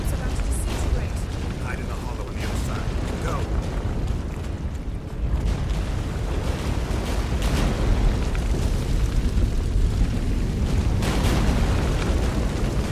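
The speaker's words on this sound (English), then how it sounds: "Shit, an earthquake." Deep, continuous earthquake rumble in The Witcher 3 video game, a dense low roar with scattered crackling bursts that holds steady for the whole stretch, with a voice talking over it.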